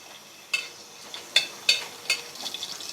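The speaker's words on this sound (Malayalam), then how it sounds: "നമ്മുടെ എണ്ണ നന്നായിട്ട് ചൂടായി വന്നിട്ടുണ്ട്. ആ സമയത്ത് നമ്മൾ പച്ചമുളക് ഇട്ടേ." Green chilies dropped into hot oil, giving a few sharp crackling sizzles and spits close by, followed by lighter scattered popping as they fry.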